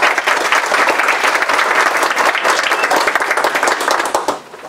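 Applause at a Salvadoran independence celebration in Stockholm: a loud, steady crowd clapping close up for several seconds before tapering off at the end.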